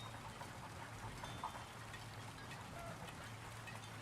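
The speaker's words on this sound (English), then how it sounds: "Rain shader." Rain from a procedural shader in a video game falls as a faint, even hiss of droplets for a few seconds over a soft low hum, with no clear breaks.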